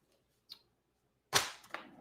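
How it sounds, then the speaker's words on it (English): Two sharp gunshots: a faint, distant-sounding pop, then a much louder crack less than a second later with a short trailing rumble. "Reporting, hearing 2 gunshots."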